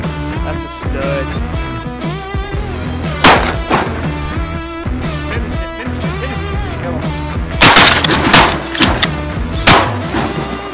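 Shotgun blasts fired at ducks on a winter duck hunt in Idaho, loud booming shots, a few spaced apart and a burst near the end, over a busy outdoor background.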